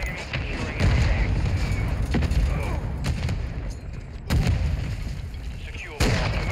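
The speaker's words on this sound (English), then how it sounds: "Hostile mortar right near your position." Mortar and artillery fire in the Call of Duty MW2 video game, with several sharp booming impacts that land loud and sudden amid a constant din of battle noise.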